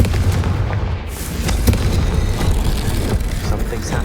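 A Confringo blasting curse explodes in the video game Hogwarts Legacy, a loud, sustained booming rumble with a sharp burst near the middle, dense low-end roar throughout.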